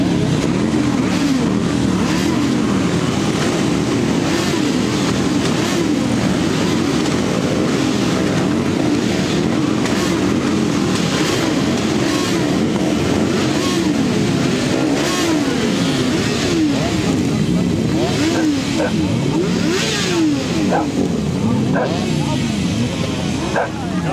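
Many motorcycle engines rev together at a bikers' church service gathering, a dense, loud, continuous roar of rising and falling throttle bursts with dog-like barks and voices mixed in.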